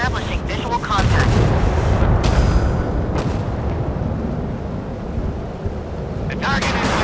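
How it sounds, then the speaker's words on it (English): Battle sounds from the naval video game Force of Warships: a loud, sustained rumbling roar of a missile launch mixed with bursts of gunfire, dense and continuous throughout, with a brief whoosh near the end. "Missile launched."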